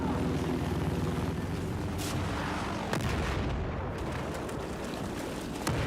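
Mortar and artillery fire in a Battlefield video game: a continuous loud rumble of battlefield booms and blasts, with sharp impacts standing out near two and three seconds and again near the end.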